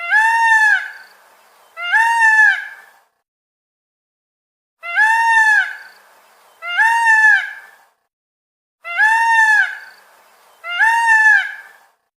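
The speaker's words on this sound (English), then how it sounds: "the peacock makes a loud call" A peacock gives six loud, harmonic wailing calls in three pairs, each pair about two seconds long with long silent gaps between, clear and alone.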